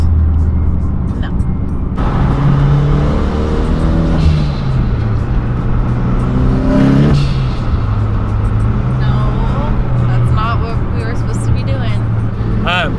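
A rebuilt Mitsubishi Evo X engine revs loudly up close, rising and falling through several pulls with a steady rumbling idle underneath while people talk excitedly over it.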